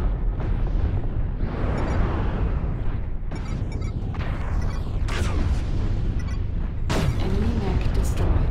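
Enemy mech destroyed in Mechwarrior Online, rumbling explosions and bursts of combat noise with a sharp blast near five and seven seconds, under speech.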